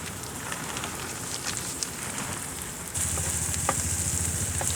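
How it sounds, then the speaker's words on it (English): Steady light rain patters and hisses on surfaces nearby at Bhandardara hill station, growing slightly louder partway through, with no voices. "This light rain is fine."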